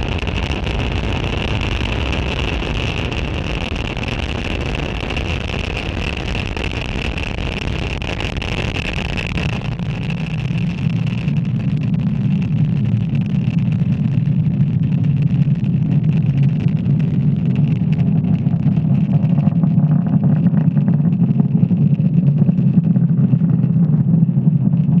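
SpaceX Falcon 9 rocket climbing away from a Florida launch site after liftoff, a loud continuous broadband roar with crackle that shifts to a deep rumbling drone as the vehicle pitches downrange, heard alone without talk.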